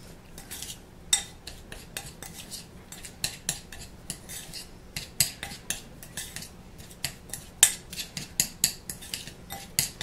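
A spoon mixes sugar scrub in a bowl, giving a quick series of close scraping clicks and gritty strokes against the sides, uneven in rhythm, with no talking.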